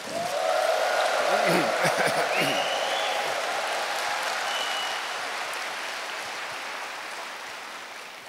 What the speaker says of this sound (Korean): 다시 한번 우레와 같은 큰 박수